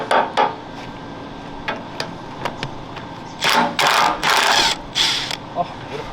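Impact wrench with a high-impact silver socket removing bolts from German Wespe armour plate, heard as short sharp clicks followed by several loud sustained rattling bursts in a workshop.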